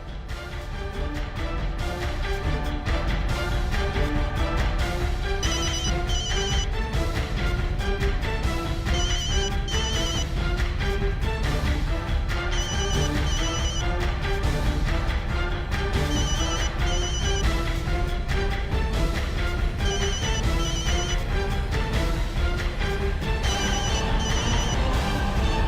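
A telephone rings over and over in a repeating electronic ringtone pattern, steady and loud for the whole stretch, with no voices.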